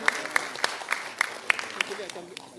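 Audience at a public forum gives a round of applause: scattered, fairly faint individual claps at a steady rhythm, with room ambience around them.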